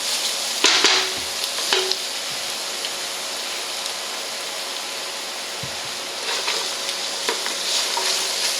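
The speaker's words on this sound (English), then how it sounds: "Alright, so we got the onions and garlic cooking here." Onions and garlic fry in a soup pot for cabbage vegetable soup, giving a steady, close sizzle throughout with a few brief clicks and scrapes of stirring.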